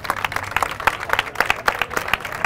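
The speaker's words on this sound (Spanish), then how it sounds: "El primer aplauso" Audience applause in the Spanish Congress during a live event honouring victims of terrorism, a dense, steady patter of many hands clapping at moderate level with no one speaking over it.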